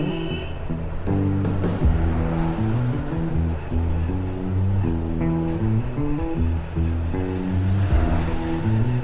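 Steady road and engine noise from a vehicle driving alongside Nainital lake on a sunny, chilly day, continuous and fairly loud, with music playing over it throughout.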